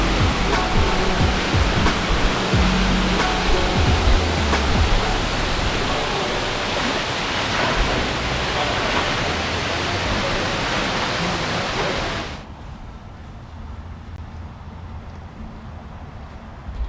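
Multnomah Falls near Portland roars as a loud, dense, continuous rush of falling water up close, then drops abruptly to a quieter, more distant wash near the end.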